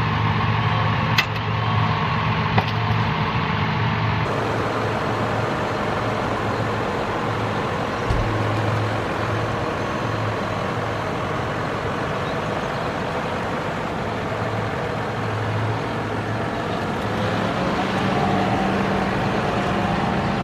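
A tractor reversing away from its detached front end loader, a steady engine drone running continuously and fairly close, with no talking.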